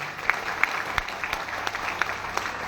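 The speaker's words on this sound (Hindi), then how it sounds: "तो चाहूंगा अपने लिए एक बार जोरदार ताली बजा दीजिए।" A seminar audience claps, with scattered individual hand claps standing out over a thin, uneven crowd applause.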